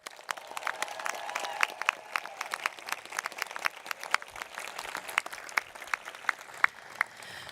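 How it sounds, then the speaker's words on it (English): A graduation audience applauds a JROTC group at a high school ceremony, with sustained crowd applause and sharp individual claps standing out, heard at moderate distance in a large space. "Could we give them a huge round of applause?"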